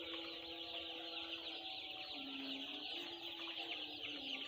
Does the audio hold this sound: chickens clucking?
yes